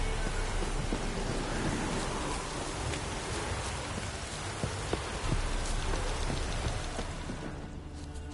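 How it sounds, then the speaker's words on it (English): Steady heavy rain pours throughout a video game thunderstorm, with low thunder rumbling underneath and a few sharper cracks; the downpour thins slightly near the end. "A storm, damn it."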